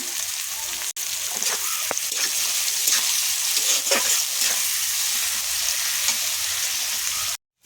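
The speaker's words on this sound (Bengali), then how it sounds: "পেঁয়াজটা ভালো করে লাল লাল করে ভেজে নেব।" Onions frying in a pan for a beef and potato curry, a steady close sizzle with occasional scraping stirs throughout, cutting off abruptly at the end.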